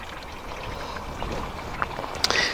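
Coolant draining from the engine of a 2010 Vauxhall Corsa with the A12XER engine during a thermostat replacement, a faint trickling, pouring flow with a few small clinks and knocks near the end.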